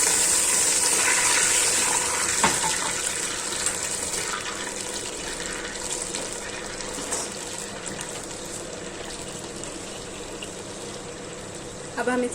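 Water poured from a glass into a hot pot with cloves and cumin for jeera rice, a steady pouring and gushing splash that fades slightly over several seconds, with kitchen background and no talk over it.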